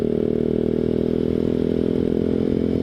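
A Grom clone motorcycle riding at night, its small engine droning steadily and loud throughout with a constant mid-range hum and slight rattle, close to the listener.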